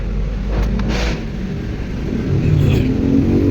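Loud, continuous highway traffic rumble, with a vehicle engine revving and swelling as it passes close by.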